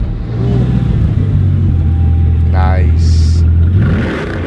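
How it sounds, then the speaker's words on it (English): A Bugatti's engine cranks and fires up close by, settling into a loud steady idle with a brief rising rev, then easing off at the end. "We're gonna start it up real quick for you. I want to hear how it starts."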